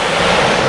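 Ocean surf rolls steadily onto a beach in Huatulco, Mexico, a loud, continuous wash of breaking waves with no voices over it.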